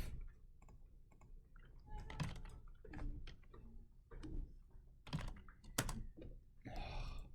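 Quick, irregular clicks of fingers typing on a computer keyboard, close and fairly faint, coming in short bursts with brief pauses between keystroke runs.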